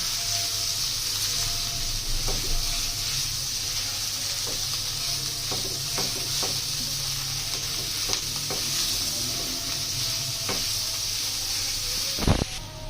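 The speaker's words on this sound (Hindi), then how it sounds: "इसको हमने फ्राई करना है जितनी देर कलर नहीं चेंज होता चिकन का" Minced chicken and garlic fry in a pan over a medium-low flame, a loud continuous sizzle broken by soft stirring scrapes and a single clatter near the end.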